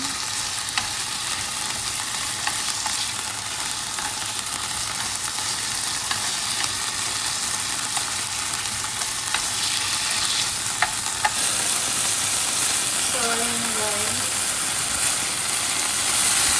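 Pork strips stir-frying in a pan over medium-high heat, a dense steady sizzle and crackle throughout, with a brief soft scrape or clink late on and no voices.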